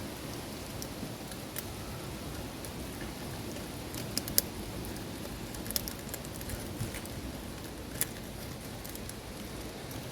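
Steady rain falls and patters outdoors during work on a Honda VT750 motorcycle fuel tank, a constant wash of drops with occasional sharper drips and taps close by, with no voices.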